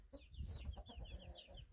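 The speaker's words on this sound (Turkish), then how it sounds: "Küçükler küçük civcivler horozu dövüyor." A rooster clucks amid small chicks in a chicken coop, with a quick series of close clucks and higher chirps over about two seconds, soft in level and with no voices.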